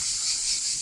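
Cicadas drone in a steady, continuous high-pitched buzz outdoors during a summer family picnic, with the sound fairly loud and unbroken and no voices.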